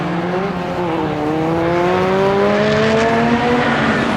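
Race cars at a 750 Motor Club race at Donington circuit, loud, near engines whining steadily with rising and falling pitch as they pass, continuous and dense throughout.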